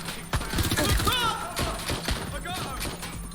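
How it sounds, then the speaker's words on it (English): Submachine gun fire in Watch Dogs Legion, several sharp bursts of shots mixed with thuds and game noise, fairly close, with a voice talking over parts of it. "I have a submachine gun."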